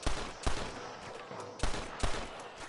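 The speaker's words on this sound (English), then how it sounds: "What's up with these snipers taking all these shots?" Sharp gunshots from snipers in the video game Red Dead Redemption ring out in several separate loud cracks, spaced unevenly across a few seconds, each followed by a short decaying tail.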